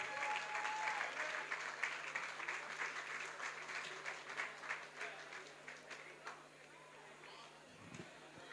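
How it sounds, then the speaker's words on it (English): Audience applause at a golf league event stage presentation, a steady wash of many hands clapping that gradually thins and fades toward the end. "Get a round of applause, please."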